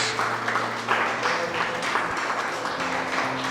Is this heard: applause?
yes